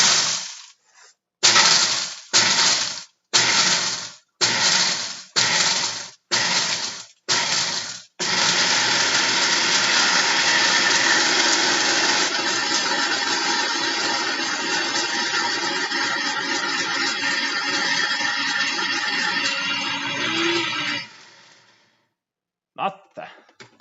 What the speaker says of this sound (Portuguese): como é que é moer o café num liquidificador